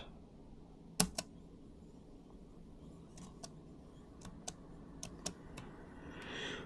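Sparse key clicks on a Lenovo ThinkPad L480 laptop with an AZERTY keyboard: a few sharp, separate taps spaced out over a quiet background, close and fairly faint, with no talking.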